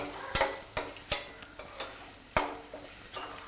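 Onions sautéing in oil with salt hiss softly under repeated sharp scrapes of a spoon against the pan, the stirring strikes irregular and close, with no voices.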